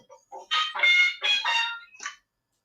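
A novelty horn at a parade honks a quick series of squawking, clucking blasts that sound like chickens, close and fairly loud, then stops.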